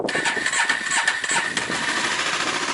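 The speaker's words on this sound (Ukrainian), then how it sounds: "Раз, два, три, чотири, за четвертим циліндром пішла." Honda CB 500 motorcycle engine catching on the starter and settling into a rough, uneven mid-pitched idle, close and moderately loud, with no talk.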